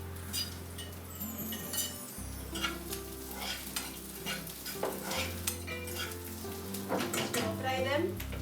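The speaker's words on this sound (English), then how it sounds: "We stir fry them up till their rawness is gone." Green chilies, garlic and ginger stir-frying in oil in a pan for a Kerala fish curry, a loud continuous sizzle with spoon clinks and scrapes against the pan, over a low steady hum.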